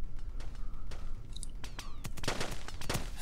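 A .50 caliber machine gun fires in Kerbal Space Program with the BD Armory mod, with scattered shots early on building to a dense cluster of loud bursts near the end.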